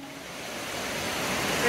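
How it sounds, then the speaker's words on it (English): A massive waterfall, Catarata Caída Nieve y Paz in Costa Rica, roars as a dense, steady wash of noise that builds slightly in loudness, with no talk over it. "This is a massive waterfall."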